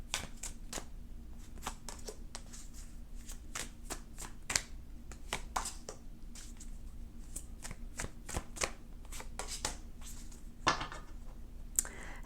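Tarot cards being shuffled close up, a rapid run of crisp riffling clicks and slaps in irregular bursts.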